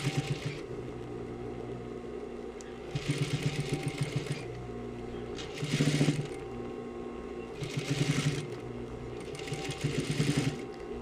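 A sewing machine stitches close to the presser foot around a trouser waistband, its steady motor whir rising into louder bursts of fast stitching at regular intervals.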